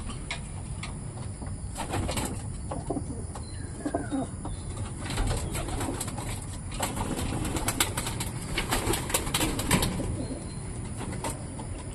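A loft of domestic pigeons, including blue bars, fills the space with steady cooing and bursts of wing flapping, a dense, continuous flock din close by with no voices.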